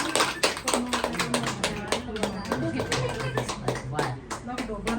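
Hands clap in quick, uneven bursts at a Nepali wedding ceremony, many sharp taps close by over steady talk and background voices.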